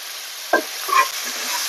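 Tomato puree hits a hot tempering in a pan for fish curry with a short, sharp splash and sizzle, followed by a soft stir and a low, steady frying hiss.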